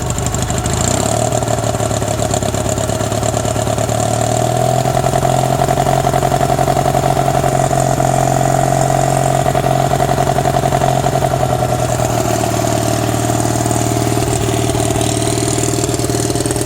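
A Cub Cadet 682 garden tractor engine with a custom stack exhaust idles loudly and steadily up close, a continuous throbbing drone with a slight shift in tone partway through.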